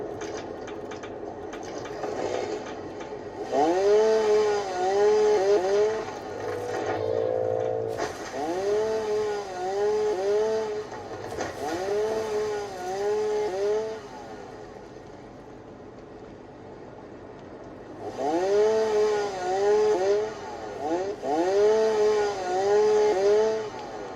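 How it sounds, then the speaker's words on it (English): A chainsaw cuts through trees in the Satisfactory video game, with repeated revving bursts of buzzing whine that swell and fade in rhythmic cycles and pause partway through. "Come through here with a chainsaw."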